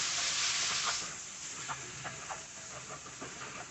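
Brinjal pieces with salt frying in a pan, a steady broad sizzle and hiss throughout with a few soft stirring clinks and scrapes, close and moderately quiet.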